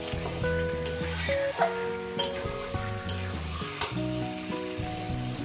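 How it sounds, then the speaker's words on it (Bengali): Chicken frying in a pan for a chicken kosha curry gives a steady close sizzle with occasional stirring knocks, all under a melodic background music track and without any talking. "দেখুন, চিকেনটা আমি সুন্দর করে ভেজে নিয়েছি।"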